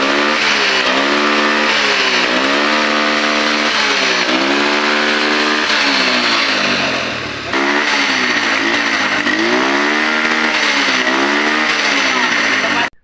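A small engine on a 12-year-old motorcycle idles and revs steadily, its pitch rising and falling in repeated cycles, with a brief dip partway through before it picks up again.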